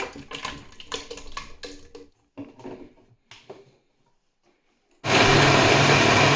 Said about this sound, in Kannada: ಇದನ್ನು ಮಿಕ್ಸಿ ಮಾಡ್ಕೊಂಡ್ಬಿಡೋಣ.